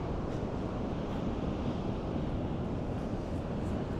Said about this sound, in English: Some big waves coming in today.